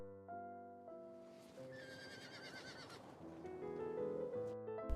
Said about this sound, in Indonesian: Karena suara kuda